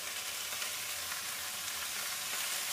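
Chopped spinach cooks in oil in a covered pan, giving a soft, continuous sizzling hiss at low level with no break and no voices.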